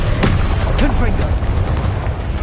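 Confringo spell blast in a Harry Potter video game, a loud booming burst with a sharp onset followed by a rumbling, crackling tail and rising whooshing streaks, under shouted spell voices.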